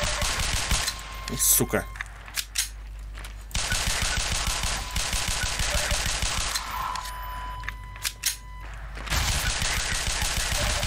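Bursts of rapid machine gun fire from enemies in Half-Life 2 rattle on and off through a chaotic firefight, loud and dense, with a man swearing briefly.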